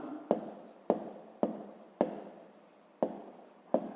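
Pen strokes scratching across paper while writing out a math answer, coming in short bursts with sharp taps at the start of each, about seven strokes, close and alone with no talk.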